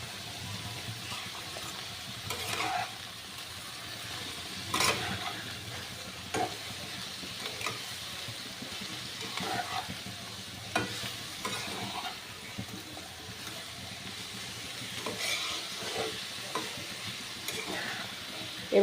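Leafy greens seasoned with turmeric and salt are stir-fried in a pan, giving a soft, steady sizzle with scattered scrapes and taps from stirring, moderately faint and free of talk throughout.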